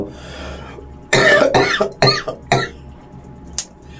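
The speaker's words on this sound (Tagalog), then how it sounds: "huwag niyo papansinin yung ubo ko" A series of four or five harsh, throaty coughs in quick succession, loud and close, followed by a short faint throat sound.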